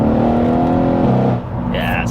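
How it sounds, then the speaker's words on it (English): A 735 bhp Mercedes E63 AMG engine revs loudly and drops through downshifts, its deep rumble rising and falling up close while people talk over it inside the car. "Oh, the the downshifts are amazing."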